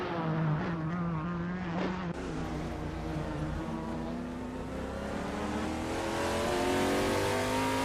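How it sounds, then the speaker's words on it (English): Race car engines roaring in a racing video game, a 2016 ADES-03 Nissan among the pack, with layered high-revving whines rising and shifting through gears, loud and continuous from start to finish. "Bot Jerk Plays is driving a 2016 ADES-03 Nissan, currently in 11th place."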